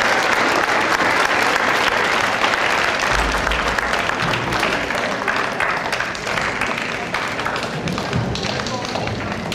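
An audience at a school academic awards ceremony applauds students, a dense, sustained round of clapping filling the room with occasional thumps and murmuring voices beneath.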